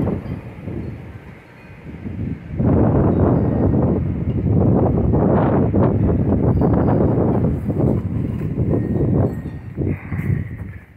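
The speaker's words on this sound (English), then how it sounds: "And look at this wind." Strong wind gusts of 40 to 50 plus mph ahead of a windstorm in Oklahoma or Kansas, roaring loudly against the microphone in sustained buffeting bursts after a quieter opening, with no talking.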